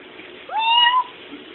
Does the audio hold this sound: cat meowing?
yes